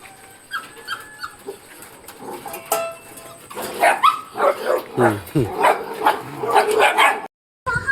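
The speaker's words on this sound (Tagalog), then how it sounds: "Pag nandyan ka eh, lumatahol yung mga aso." Dogs barking and yipping outdoors near a hut, with whimpers and sharp barks in uneven bursts, growing louder and busier in the second half while people talk over them.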